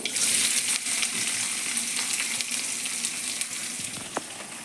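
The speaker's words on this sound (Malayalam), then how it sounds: "അപ്പം ഉള്ളിയും നട്ട്സും എല്ലാം മൂത്ത് വന്നിട്ടുണ്ട്" Onions and nuts fry in a pan for flattened-rice upma, giving a steady, loud, bright sizzle with a few small pops and scrapes, with no voices.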